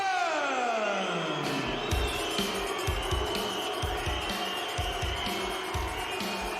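A boxing crowd at Leeds Town Hall cheering as the challenger enters the ring, a broad, reverberant roar of the hall with rhythmic thumping entrance music over it.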